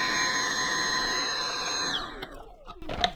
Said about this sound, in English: now I'm going to use the vacuum cleaner again